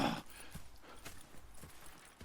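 Horse hooves clip-clop faintly in Red Dead Redemption, a soft, uneven patter of steps under quiet ambient game sound.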